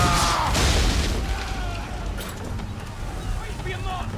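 Ship cannons boom during a naval battle in Assassin's Creed III, a heavy blast opening with low rumbling that fades into continuous battle noise, with shouted voices over it.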